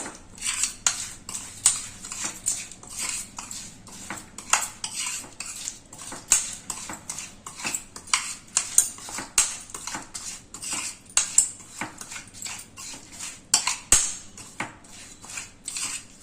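A spoon clinks and scrapes rhythmically against a bowl while chili powder is mixed, producing rapid, repeated metallic taps and scrapes close by.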